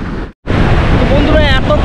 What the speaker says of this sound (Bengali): হয়তো একেই বলে সমুদ্রের উত্তাল ঢেউ।